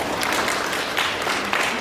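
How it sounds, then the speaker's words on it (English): A short stretch of crowd applause at an alumni association networking breakfast, a dense wash of clapping from the gathered guests without any clear break. "give yourselves a big round of applause for that"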